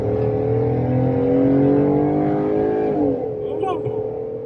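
A Jeep Wrangler's 3.6 engine pulls hard on an interstate, a loud, steady droning rise in pitch that dips near the end. Road and wind noise run underneath, and an excited voice speaks over it.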